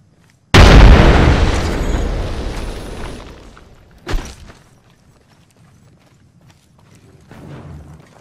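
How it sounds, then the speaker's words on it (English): A grenade explodes in a first-person shooter match with a loud, sudden boom that rumbles and decays over about three seconds, followed by a smaller sharp burst and quieter game ambience. "Tossing a grenade."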